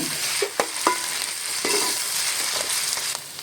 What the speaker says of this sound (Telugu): హాఫ్ టీ స్పూన్ అల్లం వెల్లుల్లి పేస్ట్ కొంచెం పచ్చివాసన పోయేంత వరకు మనం దీన్ని